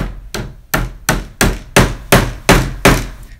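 A hammer drives a nail into a wooden Langstroth beehive frame with nine sharp, evenly spaced strikes, loud and close, each blow ringing briefly before the next.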